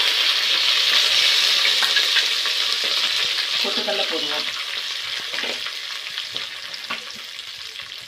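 Mustard seeds, dried chili and curry leaves fry in hot oil with a steady loud sizzle and crackle, stirred with scraping spoon strokes partway through, the frying gradually softening as a voice speaks briefly.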